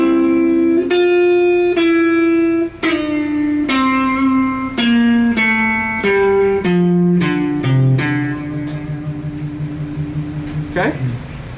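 A slow run of single plucked electric guitar notes from a solo, played one after another at an even, deliberate pace, close and clear, the last note ringing out and fading.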